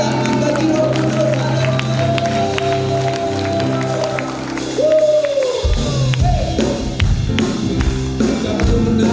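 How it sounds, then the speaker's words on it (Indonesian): Congregation clapping and cheering during a church worship service, a steady crowd din with music tones running underneath, growing louder near the middle and staying dense to the end. "Tepuk tangan bagi Roh Kudus."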